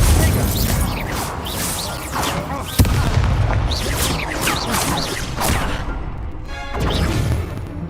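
Spell combat in Hogwarts Legacy, with a fire spell cast amid a dense wash of booms, crackles and whooshing bursts; a sharp impact lands near the middle, and talk runs underneath.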